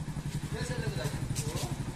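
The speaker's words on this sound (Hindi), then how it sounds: "आ रहा है अपने मामा के साथ बाइक पे" A motorcycle engine putters nearby with a steady throbbing idle, carrying a child and his uncle on the bike, while people talk over it.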